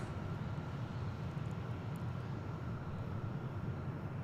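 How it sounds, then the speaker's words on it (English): A Korean Air airliner taxis to its parking spot at DFW Airport, its jet engines giving a steady, broad whine and roar at moderate distance throughout, with no speech over it. "I'm going to try to bring you the final few seconds of the Korean Air flight parking"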